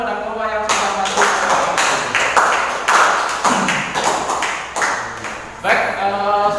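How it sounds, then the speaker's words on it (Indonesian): Classroom audience clapping for a student group that has just presented, a steady patter of many hands with voices speaking briefly at the start and end. "Silakan kembali dan beri tepuk tangan kepada kelompok yang sudah masuk."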